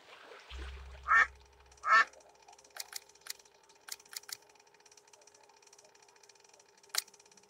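Ducks quack in the adventure game Secret Files 2, two loud close quacks after a low hum, then sparse sharp clicks and faint tones over a quiet background.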